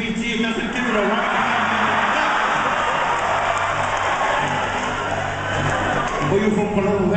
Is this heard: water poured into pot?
no